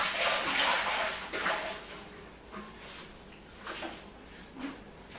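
Water runs and splashes in a sink as leftover brewing grain is rinsed out of a container during homebrewing, with a few gurgling surges and clunks.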